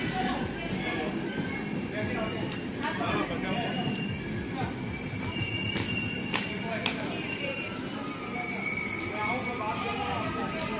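Mumbai Jaipur Superfast Express standing at Meghnagar station, with a steady loud rumble of idling locomotive and platform din, brief squeals and clanks, and people talking throughout.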